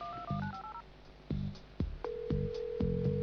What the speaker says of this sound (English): I'll use the auto dialing program